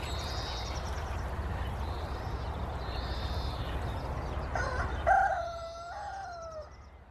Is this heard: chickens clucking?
yes